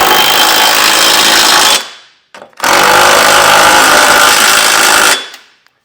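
Power tool ratcheting a 15 mm socket onto trailer hitch bolts on a 2021 Buick Enclave, two loud sustained bursts of whirring separated by a short pause, close up with no talk.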